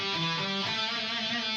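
An overdriven electric guitar plays a palm-muted pentatonic riff, its thick distorted notes shifting pitch in quick succession, close and fairly loud, with no talking.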